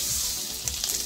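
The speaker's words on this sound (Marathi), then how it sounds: "1 चमचा बटर घालून घ्यायचा आहे।" Butter melting in a hot pan for broccoli soup, giving a steady, close, loud sizzle that runs without a break and has no talking over it.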